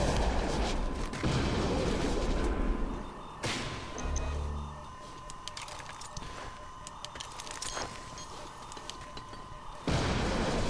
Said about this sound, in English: Tried to throw a grenade in there, didn't get anybody.